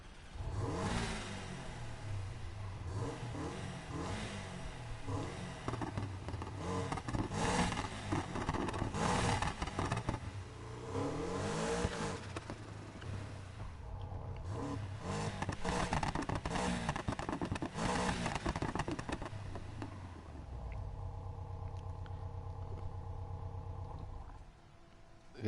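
A Porsche Cayman in a Need for Speed racing game revs hard, its engine note rising and falling in repeated surges, then settling into a steadier idle hum near the end, loud and close with no voices.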